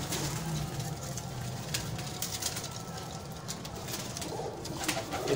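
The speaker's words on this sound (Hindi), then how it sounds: "कुछ कबूतर देखे और बच्चे नीचे हैं" Pigeons in a breeder's loft in Bhati Gate, Lahore, coo continuously with soft low throaty calls, several birds overlapping close by over a steady rustling background.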